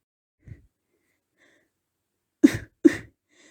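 A single soft throat sound, then two sharp coughs in quick succession, close and fairly quiet against silence.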